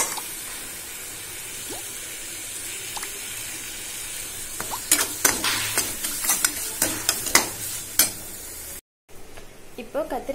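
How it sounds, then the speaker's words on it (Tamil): Tomatoes and curry leaves sauté in a pan, giving a steady sizzle, with a burst of spoon-stirring scrapes and clinks in the second half. "தக்காளி நல்லா ஸ்மாஷ் வர வரைக்கும் நல்லா வதங்கிட்டோம்"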